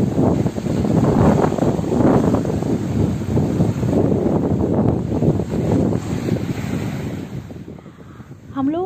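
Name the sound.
wind blowing on a Maldives beach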